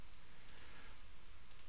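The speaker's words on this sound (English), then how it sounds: "I'm using the keyboard to move down." Two faint, brief computer keyboard key presses, spaced about a second apart, sound against a quiet background while someone navigates drawing software.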